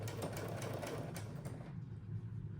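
A sewing machine stitching slowly through a bulky quilt-as-you-go block. A steady, close mechanical whir runs for about a second and a half, then stops abruptly, leaving near silence.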